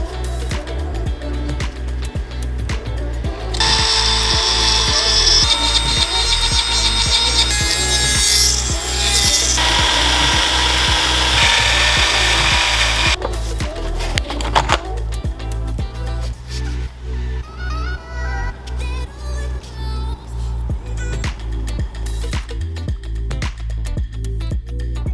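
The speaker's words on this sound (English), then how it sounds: "So I'm gonna have to grind it down, then I'll drill the actual broken bolt out and then tap it." A broken bolt is ground down and drilled out of a Honda CM450 motorcycle engine, producing harsh, sustained grinding and rasping with repeated scraping strokes, a louder high-pitched burst in the middle and a rhythmic rubbing toward the end, all close.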